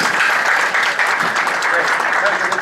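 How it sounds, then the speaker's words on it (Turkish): An audience at a business association event in Izmir applauds a guest, steady dense clapping from many hands, loud and sustained without a break. "Alkışlıyoruz kendisine."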